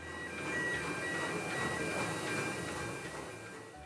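A train on the Isle of Man railway between Port Erin and Douglas rumbles steadily along the rails, a continuous rolling roar with faint rattling, swelling slightly then easing off.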